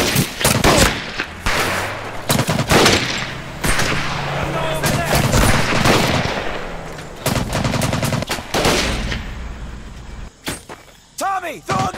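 Rapid bursts of rifle and machine-gun fire in a Pacific jungle battle from Medal of Honor: Pacific Assault, loud and close, with repeated sharp shots and shouting voices throughout.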